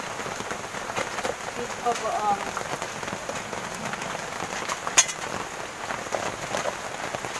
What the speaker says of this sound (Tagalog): Lakas ng ulan kasi dito eh.